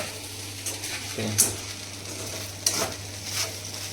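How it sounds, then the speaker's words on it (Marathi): Vegetarian khichdi stirred in a pan, with soft scraping strokes and faint clinks over a low sizzle, two or three distinct stirring movements, and no voices. "आपण तिला एकदा हलवून घेणार आहे आणि गॅस बंद करणार आहे"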